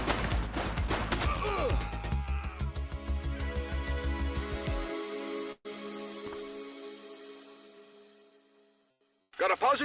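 Rapid bursts of gunfire and heavy impacts from The Precinct police video game, loud and dense at first, then fading into a low rumble before a sudden loud burst returns at the end.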